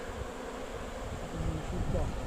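A dense, steady buzz of many honeybees swirling close by as a swarm is shaken, growing slightly louder toward the end, with faint talk underneath.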